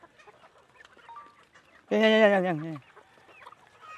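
A chicken gives a loud, close, drawn-out squawking cluck, with quieter clucks and yard sounds around it before and after. Someone says a single word.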